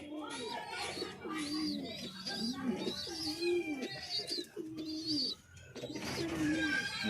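Indian Lotan pigeons coo in repeated throaty rolling phrases, close and fairly loud, with someone talking over them.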